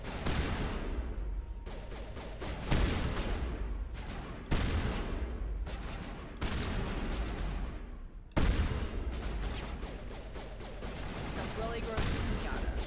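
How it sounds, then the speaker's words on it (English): Gunfire during a Mass Effect Legendary Edition firefight: sustained volleys of shots in several loud bursts separated by brief gaps, dense and continuous over the whole stretch. "Kaden, are you being helpful or are you shooting the ceiling?"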